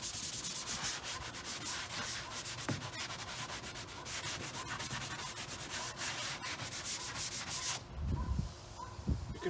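Steady abrasive rubbing of sanding over a drywall patch covering a punched hole in a wall, continuous and close with brisk back-and-forth strokes, a brief pause and a few soft knocks near the end.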